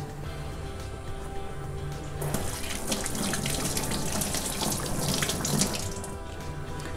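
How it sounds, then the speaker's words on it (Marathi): Running tap water rushes over peeled jackfruit at a sink, a steady splashing flow that grows fuller partway through as the fruit is rinsed, close and alone without speech. "वरची सालं काढल्यावर असा होतो का आपण धुवून घ्यायचा फणस"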